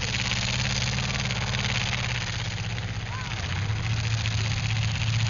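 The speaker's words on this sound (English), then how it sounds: "Eric Berkey having a little trouble getting that thing going for a minute." A demolition derby car engine labors to get going, a loud, continuous low rumble with wavering pitch that dips and picks back up midway, carrying steadily through the whole stretch amid arena noise.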